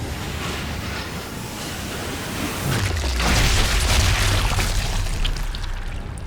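A car explodes in the war shooter Sniper Elite 5, a deep rolling boom that builds and rumbles for several seconds with a loud, roaring wash of debris noise.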